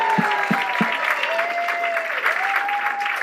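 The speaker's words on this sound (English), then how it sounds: "we can't give him enough applause" Audience applause honoring a school award recipient at a Stan Talks event, a sustained dense patter of clapping with a few sharp claps and a faint tonal whine running beneath.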